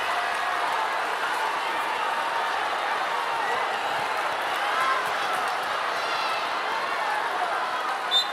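Crowd of over 14,000 in a basketball arena sends up a broad, steady roar of cheering that holds loud and even throughout, with faint squeaks and a thump near the end.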